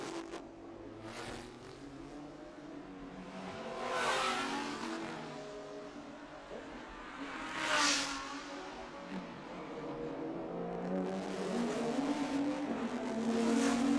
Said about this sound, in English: Car number 26 in the Porsche in the GT3 class on its run through turn 1.